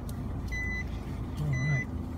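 Reversing beeps from a vehicle backing up in traffic near Takanini, Auckland, two tonal beeps about a second apart under a steady engine and road hum.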